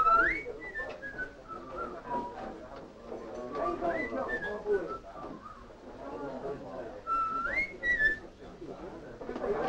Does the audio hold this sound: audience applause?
no